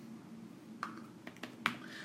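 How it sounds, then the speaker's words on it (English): Quiet keyboard typing: a few soft, irregular key clicks close by over a faint background hum. "Now if I start typing Talina,"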